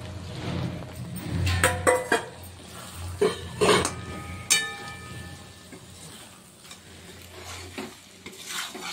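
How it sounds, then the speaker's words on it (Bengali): Soya chunks and jackfruit tipped into frying masala and stirred, with close clanks and scrapes of a spoon against the pan over an uneven sizzle that swells and fades. "এইবার আমি সয়াবিনটা আর এঁচোড়টা দিয়ে দিব।"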